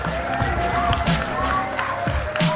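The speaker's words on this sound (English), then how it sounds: "It's just really amazing to hear them cheer for me here" A tournament crowd cheers and claps for the champion at an official Clash Royale event. The cheering is steady and fairly loud throughout, and sharp bursts of applause and a few shouts punctuate it.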